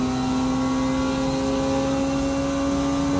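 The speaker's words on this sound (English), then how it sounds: "The sound of his engines, absolutely incredible." A race car engine roars steadily in a racing game at Monza, a loud, sustained high-pitched drone held at constant revs for a few seconds, heard alone without talk.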